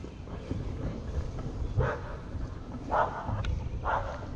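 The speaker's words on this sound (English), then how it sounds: "Dogs next door." Dogs next door bark a few times at a distance, short muffled bursts spread across a quiet outdoor background.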